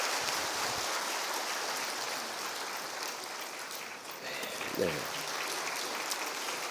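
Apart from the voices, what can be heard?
applause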